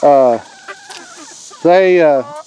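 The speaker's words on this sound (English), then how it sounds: "they're Plymouth Rock chickens" Plymouth Rock (Barred Rock) chickens cluck and squawk loudly nearby, two drawn-out calls separated by a quieter stretch of soft clucks and rustling.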